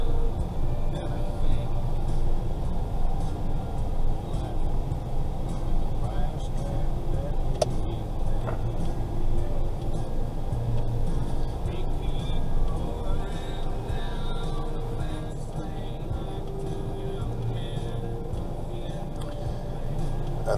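A car rolling through a junction in Subic Free Zone, Philippines, heard from inside as a continuous low engine and road rumble with a steady hum, while someone talks over it throughout.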